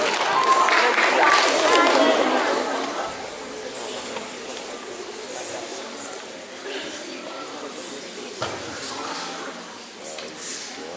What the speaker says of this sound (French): On applaudit les 6e de la classe de monsieur